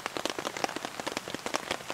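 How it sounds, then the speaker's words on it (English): Rain falls on a campsite during a solo overnight camp, a steady patter of close, crisp drops with no talking. "So yeah, rain's picking up a little bit."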